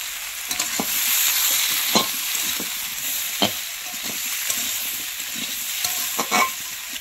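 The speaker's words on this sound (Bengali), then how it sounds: "আলু আর গাজর তো কিছুক্ষণ নাড়াচাড়া করে ভেজে নিয়েছি, এবারে গ্রেট করা আদা দেব" Potatoes and carrots fry in a pan and are stirred, a continuous hissing sizzle broken by repeated scraping strokes of a spoon, close and fairly loud, with no voices.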